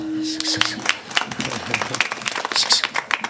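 Audience clapping during a Marathi kirtan on Akshaya Tritiya, a scattered run of handclaps, fairly close and uneven, with a sung or spoken voice briefly at the start.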